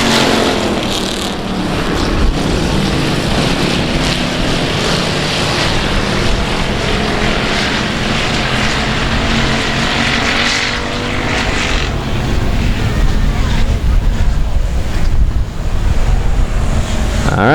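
Race cars take the green flag at South Texas Speedway, a dense, loud, continuous roar of many engines that holds steady throughout with no voices over it.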